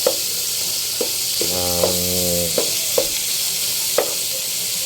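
Onion, squash and string beans sautéing in a pan give a steady, close hiss of frying, broken by a few sharp clinks of a utensil against the pan; a short tonal hum sounds partway through.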